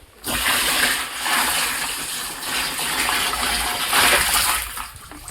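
Dissolved jaggery water is poured into a jeevamrut mixture, giving a steady gushing, splashing pour that runs close and continuous for several seconds with no talk.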